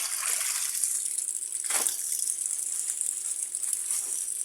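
Laundry being rinsed by hand in water, with steady trickling and sloshing and a couple of brief splashes, close and moderately loud with no talking.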